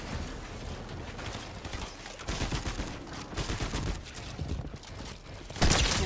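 Rapid gunfire from a Fortnite match in competitive play, a dense continuous spray of shots with mechanical clatter that swells louder near the end.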